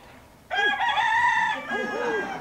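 A cockerel on a farm in freezing weather crows once in a loud, drawn-out call, close to the listener, with a brief low cluck beneath it and no talk over it.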